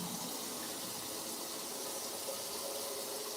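Tap water running steadily into a kitchen sink while vegetables are rinsed, a continuous close hiss and splash with no voices.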